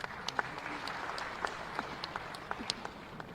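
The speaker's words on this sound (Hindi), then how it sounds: "तालियां जोरदार हो" Applause from the audience at a government launch event for a groundwater conservation mission, heard as faint, scattered clapping from a distance with light crowd noise.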